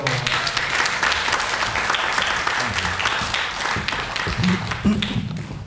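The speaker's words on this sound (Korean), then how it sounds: "힘찬 박수로 맞이해 주십시오" An audience claps loudly and steadily, a dense burst of applause welcoming a university student onto the stage.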